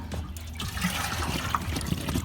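Water from a spa being reclaimed for the garden pours and gurgles as a big watering can is dipped into a water barrel to fill, a steady close-up liquid rush with sloshing throughout and no voices.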